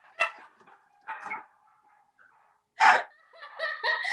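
A dog barks at home during a remote call, with several sharp separate barks spaced out over a few seconds and quiet gaps between them.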